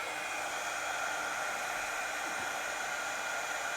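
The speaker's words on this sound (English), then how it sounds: "here's the heat gun that's normally used for doing this" A heat gun blows hot air onto carpet in a 1960 MGA, a steady, even hiss of rushing air that stays constant and fairly quiet from start to finish.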